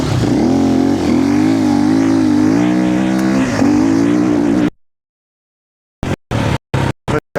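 A snowmobile in a sprint enduro race accelerates hard uphill, its engine loud and close with a rising, wavering whine for several seconds, then cutting out to silence before short bursts of throttle return.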